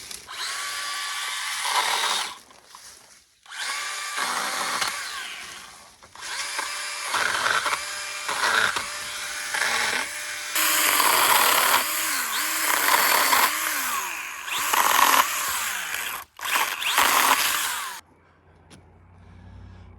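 A power pruner cuts tree limbs in a wooded yard, its small motor whining loud and steady at near range and rising in pitch and strain as the chain bites through wood, with short pauses between cuts.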